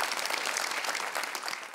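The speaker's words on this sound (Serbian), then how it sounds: "da se prvo pohvalimo za jedan aplauz" Studio audience applauding on a Serbian television health talk show, steady dense clapping filling the whole moment at moderate loudness with no talk over it.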